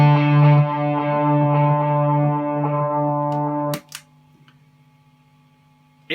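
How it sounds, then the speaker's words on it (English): A distorted electric guitar chord runs through a Joyo PXL Pro with amp distortion and a Flashback delay. It rings loud for a few seconds, then cuts off abruptly, leaving a low mains hum and a few faint clicks. "all I've got now on this channel is a amp distortion. This is amp distortion and"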